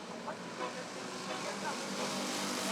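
Race cars running at Rockford Speedway during a Roadrunner feature, with a steady, fairly distant engine roar from the track. An announcer's commentary runs over it throughout.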